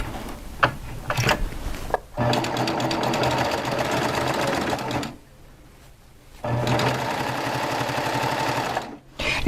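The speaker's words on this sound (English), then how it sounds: "So let's sew this flat lock," A sewing machine stitches a flatlock seam for quilt piecing in two steady runs of even, rapid mechanical whirring, stopping briefly in between with a short quiet gap, close and clear with no talk.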